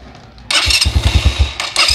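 A Suzuki Thunder 125 motorcycle engine starts after a quiet moment and settles into a loud, close, lumpy idle with a quick series of rhythmic revs and pulses, no talk.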